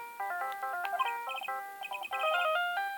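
Steel Samurai theme playing as a cell phone ringtone in the Phoenix Wright: Ace Attorney Justice For All game, a bright electronic melody of quick beeping notes, steady and unaccompanied.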